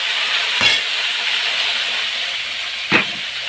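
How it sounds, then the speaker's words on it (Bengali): Washed potatoes drop into hot oil tempered with dried chillies, bay leaf and five-spice, giving two sharp bursts of sizzle over a steady loud hiss. "এবার আলুগুলো দিয়ে দেবো আলুগুলো ধুয়ে নিয়ে এসছি একবারে দিয়ে"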